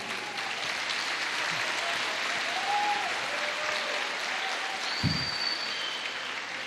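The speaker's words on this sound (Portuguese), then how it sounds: "Aplauda o Senhor Jesus." A church congregation applauds steadily for several seconds, a dense, even wash of many clapping hands filling the room, with a faint voice and brief low thump partway through.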